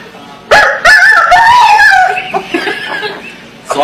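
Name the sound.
person imitating a rooster crowing when hit with a shoe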